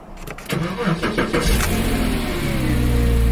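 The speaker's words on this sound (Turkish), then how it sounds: "Aracımız da çalıştı." A car engine cranks with a few quick turns, then catches and settles into a steady, loud idle that runs to the end; the car is a used vehicle being prepared for export to Norway, Germany or the Netherlands.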